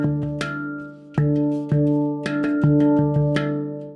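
A handpan plays a fast 3 + paradiddle rhythm, with clear metallic ringing tones and sustained harmonics under quick, close strokes for a few seconds, with no voices.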